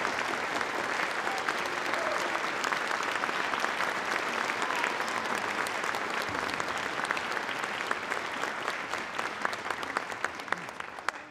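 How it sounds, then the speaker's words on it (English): Sustained audience applause for band directors at the annual James D. Ployhar Honor Band event at VCSU, steady dense clapping from a large crowd continuing throughout with only a slight taper at the end. "would you please give them a round of applause?"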